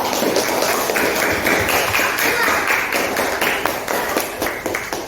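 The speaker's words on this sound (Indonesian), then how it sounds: "Tepuk tangan untuk kelas 5." A classroom of fifth-grade pupils gives a round of applause, dense rapid clapping close by that runs steadily throughout.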